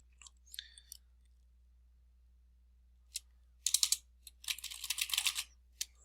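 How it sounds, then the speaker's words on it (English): Bursts of quick plastic clicks come from typing on a computer keyboard, with a short flurry at the start, then a pause, then denser irregular runs of keystrokes close by in a quiet room. "We just type in any information that we want."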